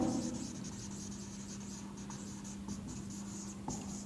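A pen scratches steadily across paper as notes are written during a chemistry lecture on limiting reagents, a faint continuous scribbling with small strokes and pauses.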